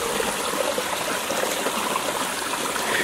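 Moving water streams steadily on a farm in Liberia, a constant close rushing and trickling wash with no pauses or voices.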